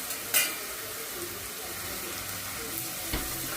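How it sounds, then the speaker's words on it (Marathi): Onion and spice masala sautés in a pan, a continuous loud close sizzle with occasional scraping stirs of a spatula and no voices. "चला आता हे छान रंग कांद्याचा कलर चेंज होईपर्यंत आपल्याला छान परतवायचा आहे हा मसाला."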